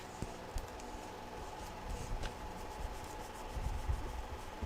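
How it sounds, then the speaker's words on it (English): A finger rubbing back and forth across a vintage journal page, making a soft, close, papery scuffing with irregular strokes and faint taps at a low level. "Just be careful when you're rubbing it like that you don't get a friction burn on your finger."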